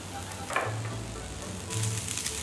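Okonomiyaki batter sizzles and crackles on a tabletop griddle, a close, steady hiss with a few brief scraping touches.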